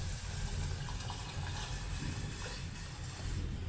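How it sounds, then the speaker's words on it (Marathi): Water pours steadily into a pan in a continuous, even rush, fairly quiet and with no talking. "आता मी पाणी घालते त्याच्यामध्ये"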